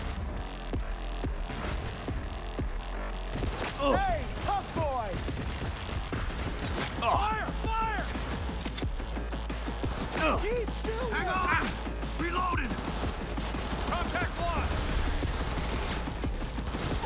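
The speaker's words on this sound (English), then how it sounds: "We go guns blazing." Gunfire in the video game Cyberpunk 2077, a steady, dense firefight with rapid repeated shots and bursts throughout, game effects and voices mixed in, and people talking over the action.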